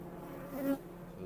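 Honeybees buzz close around an open hive while the hive is readied for winter, a steady insect drone swelling briefly as one bee flies past near the ear.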